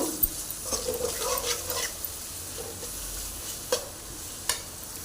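Soft frying sizzle of spices and chilli in a pan for a spinach chicken curry, with occasional stirring scrapes and a couple of sharp clinks against the pan, fairly quiet and close.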